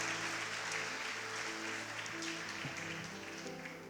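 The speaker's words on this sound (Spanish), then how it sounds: "dale un fuerte aplauso al Señor" A congregation in a church service gives dense, sustained applause that fills the room with a steady wash of clapping over a low, continuous hum.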